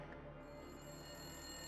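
Faint electronic ringing of a comms terminal in the Girls' Frontline 2: Exilium video game, a steady tonal ring sitting quietly under a low background hum.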